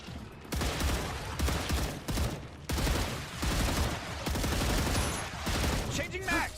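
Video game gunfire fired at hordes of mobs: dense, continuous volleys of shots in sustained bursts with brief gaps, loud throughout.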